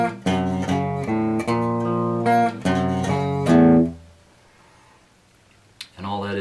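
An electric guitar plays the end-of-chorus riff from a song: a run of strummed chords in a steady rhythm that rings out and fades, followed by a brief fresh strum at the very end.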